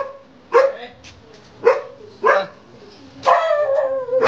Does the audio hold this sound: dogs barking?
yes